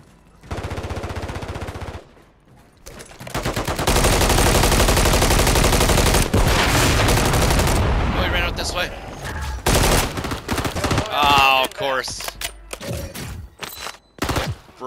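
Gunfire in a shooter video game, bursts of rapid automatic fire with a long sustained volley in the middle and scattered sharper shots toward the end, loud and close, with voices calling out at times.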